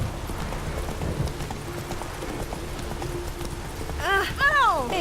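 The horse Roach gallops in The Witcher 3 with a steady rhythmic clip-clop of hooves under background game sound, then a loud whinny near the end.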